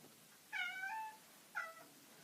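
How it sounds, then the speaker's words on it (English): A cat meows twice, faint and somewhat distant, the first call drawn out and the second shorter, in an otherwise quiet room. "I'm sure you can hear that cat."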